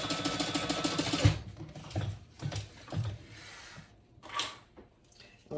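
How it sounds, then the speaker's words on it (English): Sewing machine stitching a credit card slot onto a fabric wallet: a fast run of needle strokes, then a few short, separate stitching bursts and clunks, close and unaccompanied by talk. "and just sew across the bottom"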